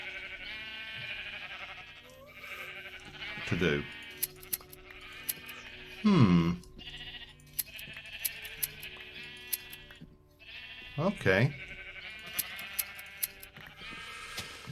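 Sheep in a pen bleat in the video game Thaumaturge, several loud wavering calls at irregular intervals, mixed with game music and brief stretches of someone talking.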